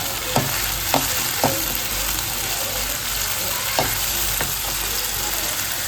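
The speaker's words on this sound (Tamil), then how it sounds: "வெங்காயம் நல்லா வதங்கிடுச்சு. தக்காளி போட்டுக்கலாம்." Onion and tomato sizzle steadily in a pan while cooking manathakkali keerai poriyal. A few sharp clicks of a spoon against the pan break through a constant close frying hiss.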